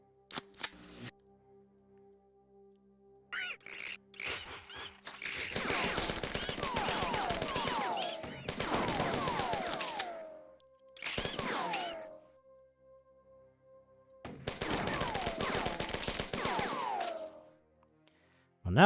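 Machine gun fire in the 1994 first-person shooter Marathon: long rapid bursts of automatic fire, loud and close, separated by quiet gaps with faint game hum between them.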